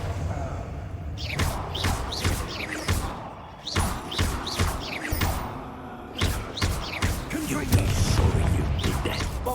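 Confringo fire spell blasts in Hogwarts Legacy go off amid combat, a series of sharp thuds and crashing impacts at irregular intervals with some voices in the game.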